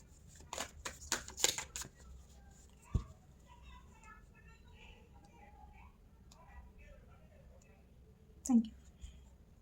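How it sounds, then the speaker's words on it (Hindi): Tarot cards riffled and shuffled by hand in a quick burst of papery flutters and snaps, then a few soft taps and a clack near the end, with low murmured speech in between. "अभी मैंने शफल किए थे कार्ड"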